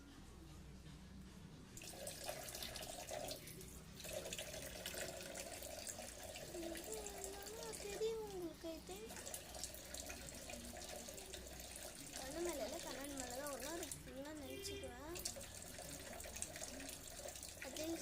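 Water gushes steadily from a kitchen tap after a short quiet moment, a constant hiss while a person talks over it.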